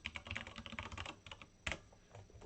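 Rapid clicking of computer keys typed in quick bursts, close and clear, with a brief pause before a final few taps.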